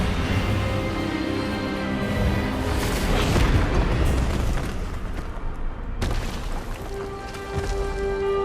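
A spell blast from the Expelliarmus disarming charm in a Hogwarts video game duel: a sustained, loud booming rumble that swells around the middle, breaks off sharply, then resumes with a ringing tonal layer over the rumble.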